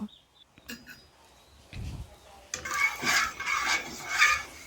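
A metal spatula clinks and scrapes around a wok of heating mustard oil, giving light, irregular metallic taps that build into a busier, louder clatter.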